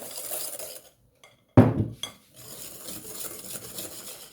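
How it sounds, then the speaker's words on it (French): Eggs and sugar are whisked in a bowl, with quiet scraping and clinking of the whisk against the bowl, a sharp louder clatter partway through, then continued soft stirring. "Je vais blanchir les œufs. Voilà, je mélange bien."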